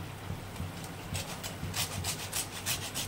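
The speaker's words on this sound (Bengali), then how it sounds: "আর দিয়ে দেবো গন্ধরাজ লেবুর একটু গাটা ঘষে এখানে" Gondhoraj lemon peel grated against a grater for a fish and mustard paste dish, a run of close, rhythmic scraping strokes that grow denser and brighter partway through, with no talk.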